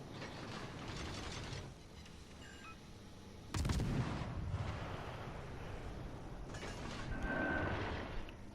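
Ship guns fire in a naval battle video game aboard the T-61 destroyer, giving distant booms over a steady mechanical rumble, with a heavier blast partway through and more muffled shots after.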